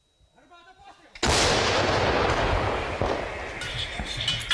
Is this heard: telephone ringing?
no